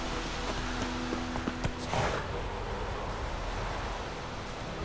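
Horse summoned in The Witcher 3 video game, clip-clop hooves approaching at a steady trot over a soft ambient outdoor wash, a short burst of nearer hoofbeats before fading into background noise.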